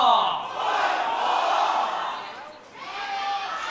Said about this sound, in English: The crowd's here, boys.